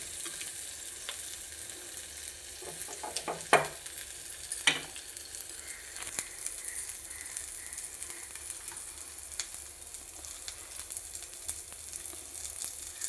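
Ghee tempering sizzles softly in a pan for a chickpea rasam, a quiet steady frying hiss broken by a couple of sharper scrapes and clinks from the stirring spoon.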